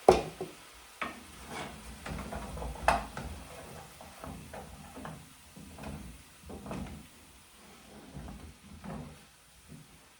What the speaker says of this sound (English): And let me stir that up.